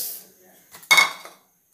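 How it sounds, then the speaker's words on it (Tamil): Toor dal tipped into a dry pan for roasting, destined for homemade kuzhambu chili powder, giving a short, close rattling clatter of lentils hitting metal that lasts about half a second and then stops. "இப்போ ஒவ்வொண்ணா ட்ரை ரோஸ்ட் பண்ணி எடுத்துக்கலாம் ஃபர்ஸ்ட் துவரம் பருப்பு போட்டுக்கறேன்"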